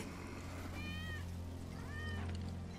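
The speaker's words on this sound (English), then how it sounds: "That's Wedge's cat." A cat meows twice in Final Fantasy VII Remake, two drawn-out, moderately clear calls about a second apart over a low background hum, with no speech.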